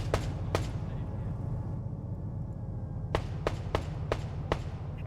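An LAV armored vehicle in a military video game firing at a compound, sharp evenly spaced cannon shots, a pair early and a quick run of five later, over a low engine rumble.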